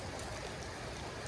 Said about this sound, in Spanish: podríamos decir que es una lluvia moderada lo que está cayendo en este momento